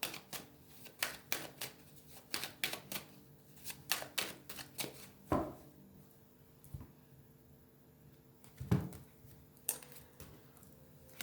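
A tarot card deck being cut and shuffled, quick papery riffling bursts at close range, then a few slower soft slaps and taps of cards.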